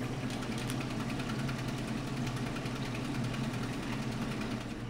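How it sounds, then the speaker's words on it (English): Automotive paint is churned in a lidded mixing machine, a steady mechanical whir with a fast rattling vibration, close and constant for several seconds with no talking. "Close the lid and mix it."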